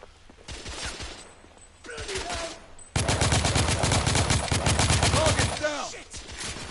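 SMG fire in The Order 1886 on PS4, two short bursts, then a loud sustained stretch of rapid automatic shots up close, ending with a few trailing clatters.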